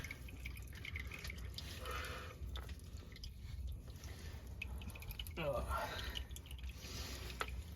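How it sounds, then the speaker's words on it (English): Engine oil dripping from the drain of a 2014 Ford F-150 King Ranch 5.0 into a drain pan, a faint, uneven series of small drips against a low background hum. "This don't take too much time, so we're gonna let it keep on dripping out there."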